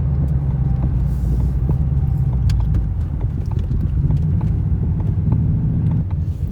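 A Ford Mach 1 Mustang with an H-pipe exhaust rumbles loudly and steadily throughout, a deep continuous drone with no talking over it.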